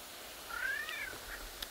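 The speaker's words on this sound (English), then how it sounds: "There's a cat." A single cat meows outdoors in a backyard garden, one rising and falling call at moderate distance over steady background hiss and running water.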